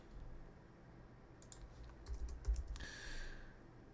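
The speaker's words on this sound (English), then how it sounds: "sorry for my terrible typing right now" Quiet, close clatter of typing on a computer keyboard while coding Java in Eclipse, a short run of quick key taps followed by a brief scraping sound, with faint background hum.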